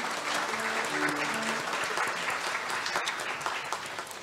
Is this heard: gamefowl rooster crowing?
no